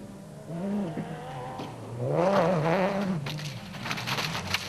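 A Nissan Navara rally truck racing in the 2009 Adenco 400 and almost crashing, its engine loud and close, the pitch dipping and then surging as it revs hard, with gritty scraping noise over the second half.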